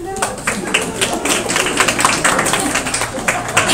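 Audience applause for the single people at a couscous comedy show, a dense, steady wash of clapping from a crowd that carries on evenly for several seconds with scattered individual claps standing out.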